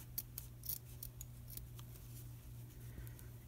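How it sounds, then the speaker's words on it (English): Scissors snip through material being trimmed for a homemade stamp cleaner, a few quick close cuts in the first half, then quieter handling over a steady low hum. "I'm gonna need to trim this down just a little bit"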